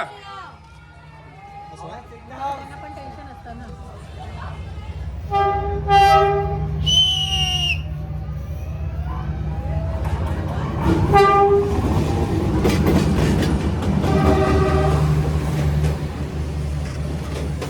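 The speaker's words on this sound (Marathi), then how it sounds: "गाइस ट्रेन आली" A train rolls through Hanoi's Train Street in Vietnam, passing very close along the narrow residential lane: a rising rumble of wheels and carriages with several loud horn blasts, while people chatter nearby.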